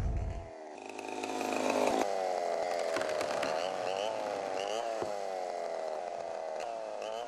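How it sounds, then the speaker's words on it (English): Chainsaws hand-milling a large merbau tree into planks in West Papua: the engine starts low, revs up high and keeps cutting steadily with a wavering pitch under load, loud and close. "The trees are then hand-milled using chainsaws."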